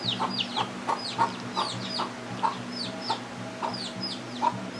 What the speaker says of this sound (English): there's so many chickens and they're so healthy because they eat so well with the rice